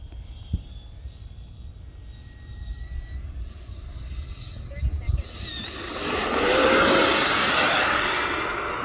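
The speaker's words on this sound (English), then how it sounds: "It's just a really good flying airplane." A Freewing F9F Cougar model jet airplane flies past, its turbine whine faint at first and then swelling into a loud, broad rush as it passes close by, with quiet background noise and a few soft bumps earlier.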